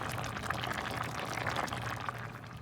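Pot of field peas with neckbones simmering under a lid, giving a steady bubbling, burbling boil with a low rumble, even and continuous throughout.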